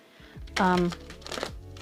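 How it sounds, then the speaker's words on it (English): Cards riffled together in a quick fluttering burst, followed by lighter ticking as they settle, with a voice talking nearby. "I can kind of riffle shuffle here."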